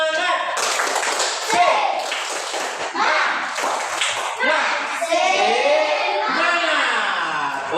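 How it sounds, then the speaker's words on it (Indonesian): Schoolchildren performing a tepuk semangat spirit clap in a classroom, sharp patterned claps alternating with loud chanted voices in a brisk, rhythmic call. "Coba tepuk semangat."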